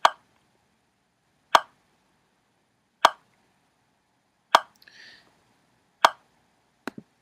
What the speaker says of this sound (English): So 40 sounds like this.